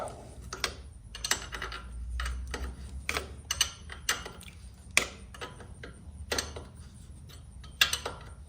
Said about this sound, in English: let's tighten up these breather bolts